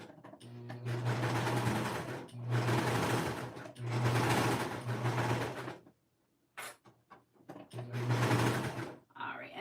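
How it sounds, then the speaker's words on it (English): A serger sewing machine stitches fabric close by in four sustained whirring bursts, each a fast, even mechanical buzz, separated by short pauses and a longer gap with faint handling noises. "I just stitch over where I began my serger stitch to begin with."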